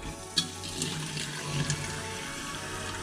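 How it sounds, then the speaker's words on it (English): Water runs from a kitchen sink faucet in a house for sale, a steady low-pressure hiss and splash that goes on for the whole moment with no talk. "There's a kitchen sink over here. Has all the appliances."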